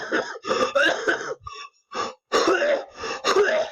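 A woman coughs in rough, raspy, wheezy bursts, a rapid run of harsh coughs with brief breathy pauses, loud and close to the microphone.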